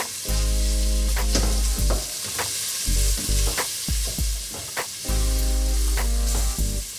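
Vegetables fry in oil for a Moroccan vegetable tagine, a loud close sizzle broken by repeated stirring clatters, over a steady humming tone.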